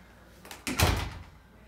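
A room door in an Atlantic City, New Jersey timeshare unit swings and shuts with a single solid thud, close by, followed by a brief fading rumble in an otherwise quiet room.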